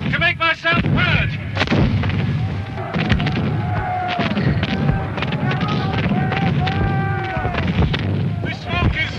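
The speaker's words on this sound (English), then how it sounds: "That's Cumberland's cannon. Cannonades all around me." Cumberland's cannon fire in a cannonade at the Battle of Culloden: a rapid series of heavy booms and blasts, some near and some farther off, with someone talking over the barrage.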